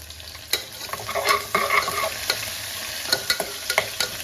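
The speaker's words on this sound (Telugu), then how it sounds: "ఉల్లిపాయలు బ్రౌన్ కలర్లో ఫ్రై అయిన తర్వాత పచ్చిమిరపకాయలను కూడా యాడ్ చేసుకోవాలి" Green chilies frying with browned onions in a pan, heard as a close, steady sizzle broken by several sharp spatula scrapes and clacks at irregular intervals, with no voices.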